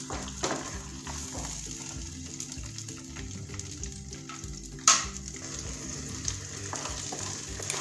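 Tomato puree frying in a pan while being stirred, a steady close sizzle with soft scraping strokes and one brief louder clank of the utensil against the pan.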